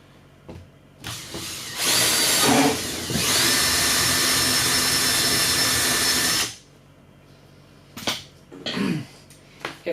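A non-variable-speed power drill bores a hole through dishwasher plastic, whining loudly and steadily for about five seconds, with handling knocks and clatter before and after.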